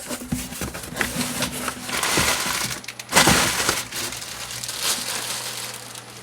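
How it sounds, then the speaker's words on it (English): A new Yaesu FTM 500D radio being unboxed, with close crinkling, rustling and crackling of packaging material in irregular bursts and a sharper loud crunch midway, no speech. "Open the box up."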